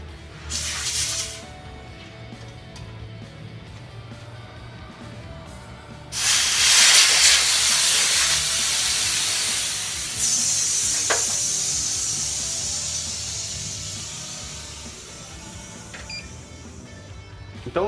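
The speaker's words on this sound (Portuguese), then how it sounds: "Agora a gente vai soltar o nitrogênio que tem dentro da linha" Nitrogen escaping from an air conditioner line during installation: a brief hiss, then a loud, close, steady rush of gas that gradually fades over several seconds, with no talk.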